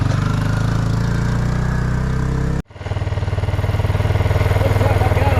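A 1996 Kawasaki Bayou 300 4x4 ATV engine runs steadily up close with a loud, even putter; it cuts out abruptly for a moment near the middle, then restarts and settles back into a rhythmic idle.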